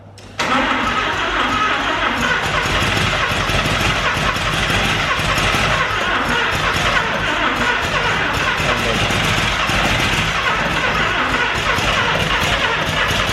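Mazda RX7 Series 1 rotary engine, a barn find not run in 10 years, with a brief crank that catches almost at once and runs loud and rough, revving continuously close by.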